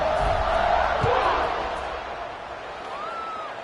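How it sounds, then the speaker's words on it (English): A stadium crowd roars in the College Football 26 video game, a dense, loud wash of cheering that swells early with a few shouts, then eases slightly but keeps rumbling steadily. "this crowd now ready to get behind them."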